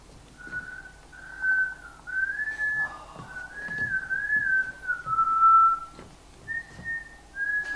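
A young girl's whistled tune, a seven-year-old's recording played back from a dictation machine, drifts through a room as a thin, wavering melody of sustained notes with small breaks, fairly quiet against faint background noise and no talking.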